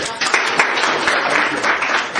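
Classroom applause during an open English lesson, steady dense clapping from a group of students, close and fairly loud, continuous for a couple of seconds without speech.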